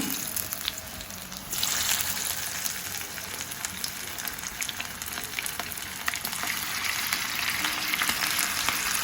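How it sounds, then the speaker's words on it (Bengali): Chicken wings frying in hot oil, a steady loud sizzle that swells slightly partway through and carries on without talk. "চুলায় তেল দিয়েছি, এখন আমি চিকেনগুলি দিয়ে দিব, উইংসগুলি দিয়ে দিব, একটু ভেজে নিব।"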